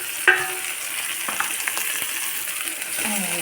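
Small mola fish fry in a pan of oil, giving a steady, close sizzle. Faint stirring scrapes and small clicks run through it.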